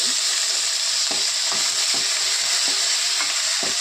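Curry leaves fry gently on a low flame, a steady soft hiss with scattered light crackles and stirring scrapes, close and alone.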